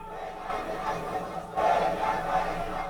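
A huge protest crowd chanting "Death to America": massed voices rising in rhythmic swells, with a louder surge partway through, blended and somewhat distant rather than individual shouts.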